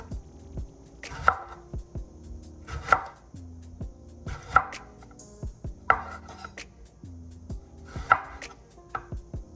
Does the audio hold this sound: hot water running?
no